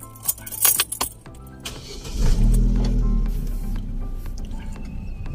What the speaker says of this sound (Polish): ja to, co zrobię, to ja odpalę samochód